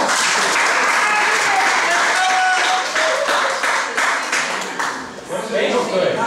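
Loud, continuous applause from an audience at a school mock job-interview event, filling the whole stretch with voices mixed into the clapping.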